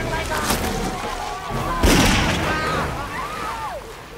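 Gunshot from the 2006 horror film Hatchet, a sharp loud boom about two seconds in with a shorter crack earlier, heard among film audio and people talking.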